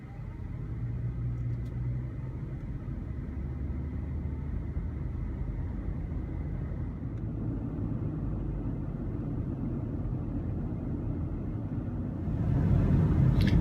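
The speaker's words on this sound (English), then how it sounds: "This is just documentary proof that I have allowed ChuWan to drive my car once" Car interior while driving, a steady low road rumble and engine drone throughout, growing slightly louder near the end, with no voices.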